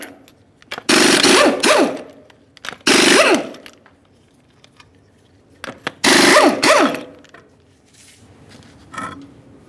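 A pneumatic impact tool removing 21mm lug nuts from a rear wheel of a 1994-2001 Dodge Ram 1500, firing in four loud, rapid hammering bursts of about a second each, separated by quiet gaps, with a fainter final short burst.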